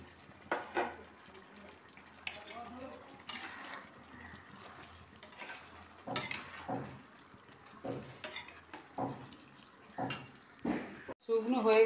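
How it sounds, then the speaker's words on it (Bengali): Fried chicken pieces go into a pan of boiling sugared water while cooking dry chilli chicken, bringing intermittent clatters of utensil against pan, with a voice speaking between the knocks. "ভাজা চিকেনগুলো দিয়ে দিলাম।"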